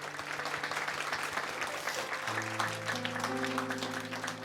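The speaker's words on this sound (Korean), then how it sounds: "우리 최병호 집사님께 다시 한번 큰 박수 드리겠습니다" A church congregation gives sustained applause after a deacon's testimony at a Wednesday worship service, steady and moderately distant, while held keyboard chords rise and change beneath the clapping.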